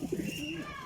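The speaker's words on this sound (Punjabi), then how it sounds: "ਮਾਦੀ ਕਬੂਤਰ ਹੈ?" A female pigeon gives a short, soft throaty coo close by, with faint voices around it.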